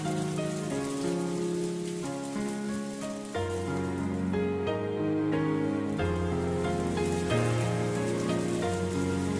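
Steady rain patters throughout a scene in the visual novel Umineko When They Cry, blended under sustained background music, continuous and even with no talk.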